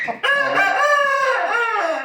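A large rooster crows loudly and near, one long drawn-out call lasting nearly two seconds, just after a short cluck.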